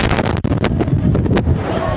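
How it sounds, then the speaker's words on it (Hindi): Strong storm wind gusting over the microphone in Solan, with sharp crackling bursts like thunder and rumbling throughout, loud and continuous for the whole span. "और बिजली कड़क रही है, आसमान गरज रहा है"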